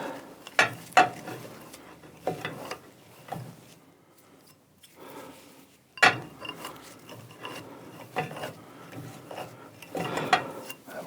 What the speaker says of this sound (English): Quick deburr.